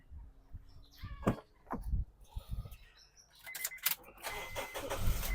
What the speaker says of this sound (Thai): เดี๋ยวเราไปดูในส่วนห้องเครื่องและฟังเสียงเครื่องยนต์กันบ้างนะฮะ